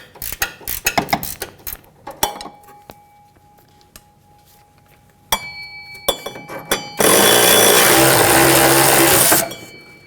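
Work on the upper control arm bolt of a 2003-2008 Honda Pilot during a rear CV axle replacement: sharp metallic clicks and clanks, a bright ringing tone, then a sustained loud mechanical whir of several seconds.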